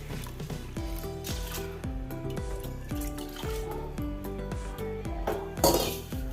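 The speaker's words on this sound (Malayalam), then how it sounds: "നമുക്ക് പരിപ്പ് നല്ലപോലെ കഴുകി കുക്കറിലിട്ട് കൊടുക്കാം" Lentils (dal) being washed in water for a pressure cooker, sloshing and trickling water with repeated hollow clinks and swishes of a vessel in a fairly regular rhythm, close and moderately loud.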